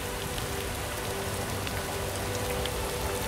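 Rain falls in the video game Starbound, a constant fine patter of drops on surfaces with a faint steady hum beneath, even and unbroken throughout with no talk.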